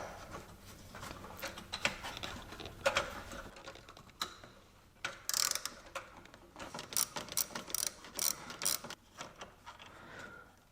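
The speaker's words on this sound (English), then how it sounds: "so I can access this with my E7 socket" A socket ratchet clicks in short bursts of rapid ticks while loosening an air-conditioning line connection in the engine bay of a Jaguar S-Type, close and fairly quiet, with no talking.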